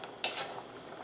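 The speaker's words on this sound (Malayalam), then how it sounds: "ഈ സ്റ്റൂ നമുക്കൊന്ന് ഇളക്കിയിട്ട് കൊടുക്കാം." A utensil scrapes and clinks through a Kerala-style egg and potato stew in a pot, one sharp knock followed by softer stirring swishes over a faint bubbling hiss.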